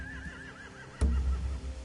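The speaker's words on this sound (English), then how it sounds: "They have horses." Horses whinny in The Walking Dead video game, a wavering high neigh repeating over a low background, followed by a sudden thump and rumbling low noise; no talk.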